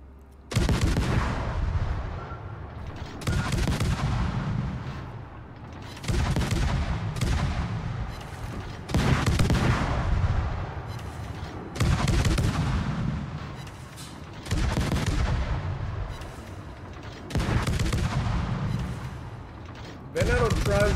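The Italian battleship Venezia in World of Warships fires its main naval guns at an enemy ship, heavy booming salvos repeating about every three seconds, each ringing out and decaying into the next.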